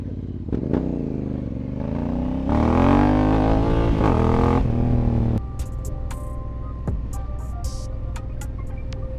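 A Yamaha MT-09 SP motorcycle ridden at night on English country roads: a steady engine drone that rises in pitch as it revs, then drops to a lower rumble with wind and light clatter.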